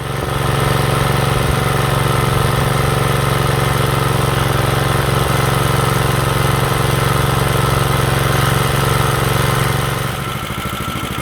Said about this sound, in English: Engine runs great, no apparent issues.